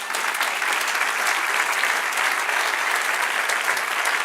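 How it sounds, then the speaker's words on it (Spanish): A church congregation gives a strong, continuous round of applause to the Lord, a bright, dense clatter of many hands that stays steady and fairly loud throughout. "Dale un aplauso al Señor."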